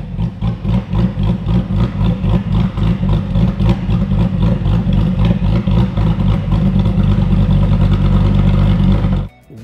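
A C8 Corvette fitted with a Texas Speed head and cam package, its engine idling with a loping, choppy rhythm and blipped revs, loud and close, cutting off abruptly near the end.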